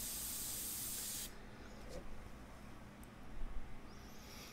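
An airbrush sprays paint in a steady, close hiss for about a second, then cuts off into quiet room tone.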